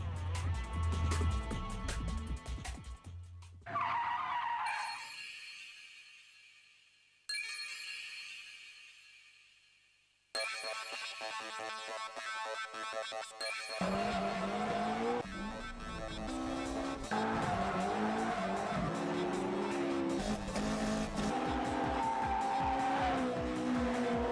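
A car drifting with its tyres skidding and squealing loudly, mixed with race-car engine roar that cuts out abruptly a few times and then returns as a long, sustained screech.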